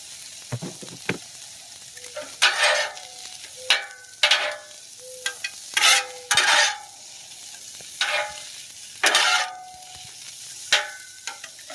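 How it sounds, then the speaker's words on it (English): Chopped onion sizzles loudly on an oiled hibachi grill, close up, in repeated bursts of hissing as it is stirred and scraped around with a spatula, with brief quieter gaps between. "now I'm gonna put my onion, my chopped onion"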